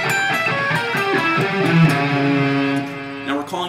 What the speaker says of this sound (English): So slow, just the arpeggio sounds like this.